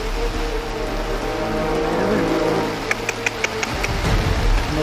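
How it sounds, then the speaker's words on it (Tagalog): Heavy rain driven by wind pours down on a rainy campsite in Tanay, a dense steady hiss of drops on surfaces with a few sharp ticks near the end and no talking. "Lakas ang ulan."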